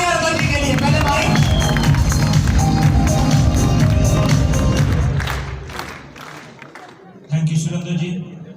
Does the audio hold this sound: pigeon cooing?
no